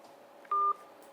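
A single phone keypad tone sounds as a number is dialed, one clear beep lasting a fraction of a second over a quiet background hum.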